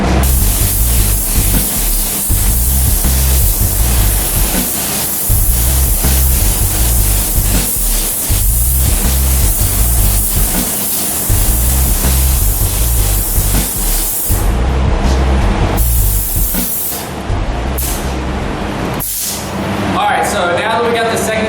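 A spray gun lays a second coat of custom color-shift paint, giving off a loud, steady, broadband hiss that runs almost unbroken over a rhythmic backing beat, thinning briefly near the end.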